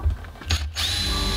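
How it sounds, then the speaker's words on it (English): A power drill bores pilot holes in wood while a DIY seed-starting tray is being built: a short mechanical burst, then a steady whirring spin that holds to the end. "Drill ourselves some pilot holes."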